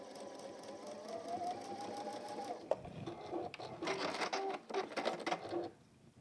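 A sewing machine stitches a seam on a fabric toy with a fast, rhythmic mechanical whir, first steady, then a short pause, then another burst of rapid stitching, close and fairly quiet.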